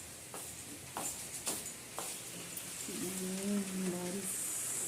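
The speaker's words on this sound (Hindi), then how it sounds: "बारिश हो रही है।" Steady rain hisses on surfaces around a village house, with a few louder drip taps early on and a brief voice murmuring underneath partway through.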